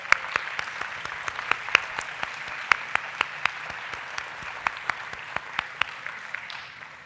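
Audience at a university distinguished alumni event applauding standing students, a sustained round of many hands clapping steadily in a large room for several seconds.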